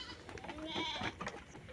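A goat bleats near the mic after being treated for lice, a wavering cry lasting about a second, with faint background noise and no clear speech.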